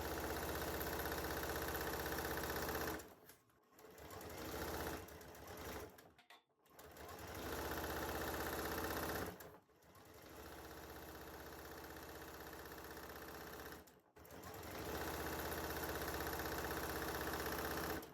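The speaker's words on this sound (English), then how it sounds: "For this one, we're going to sew from the middle to the bottom right" A sewing machine stitching a Tulip Star block for a barn star sampler quilt runs in long steady bursts, loud and close, stopping briefly several times before starting again, with no talking.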